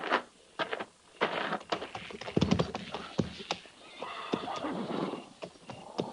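Cavalry horses whinny and snort nearby while hooves clop unevenly on the ground, with some shuffling and movement between the calls.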